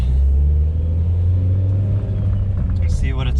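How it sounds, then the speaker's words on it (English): A 2006 Mitsubishi Evo 9 MR engine idling, heard from inside the car as a loud, steady low rumble, with a voice briefly speaking near the end. "So we are inside of the Evo with it running."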